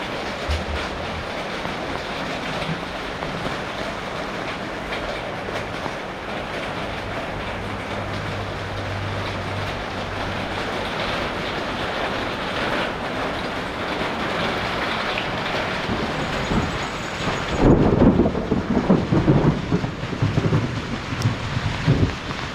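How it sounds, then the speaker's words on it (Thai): Heavy rain roars steadily with strong gusting wind in a summer storm, a dense continuous wash of noise that swells louder near the end. "ฝนตกต่างจังหวัดนะครับลมแรงมาก"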